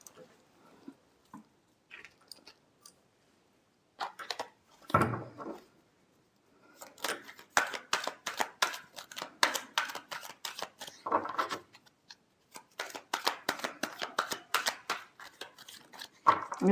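Tarot cards shuffled at close range, a long run of rapid, crisp papery flicks and riffles in dense bursts after a few quiet seconds, with no talking.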